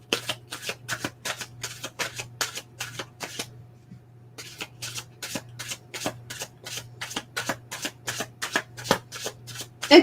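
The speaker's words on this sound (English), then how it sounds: "Let me draw more cards for you." Tarot cards riffled in rapid repeated shuffles, a crisp rhythmic flutter of sharp card snaps close up, pausing briefly about a third of the way through before resuming, with a faint steady hum underneath.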